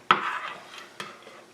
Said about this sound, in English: We're gonna use our tablespoon to shake it up some more.